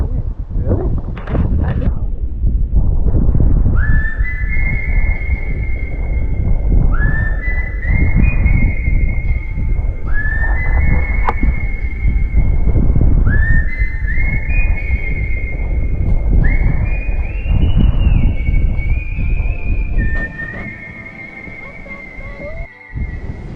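Loud, sustained whistling tones from wind blowing through Whistling Rock near Esperance, Western Australia, rise and hold in repeated waves over a constant roar of wind, with brief pauses between the swells.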